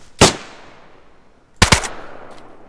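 Gunfire in the DayZ video game, in a player-versus-player fight: one sharp close shot, a pause, then a quick double burst, with a faint distant crack after.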